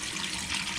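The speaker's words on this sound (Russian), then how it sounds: "Воду я, наверное, солью" Water that dandelions were soaked in being poured out, a steady, close splashing gush without a break and with no talk.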